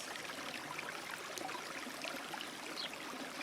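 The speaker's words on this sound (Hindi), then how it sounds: "आपको पानी की, झरने की आवाज़ें आ रही हैं।" Water flowing steadily from a forest waterfall and stream, a continuous soft rushing wash with faint trickling detail, even and unbroken throughout with no voices.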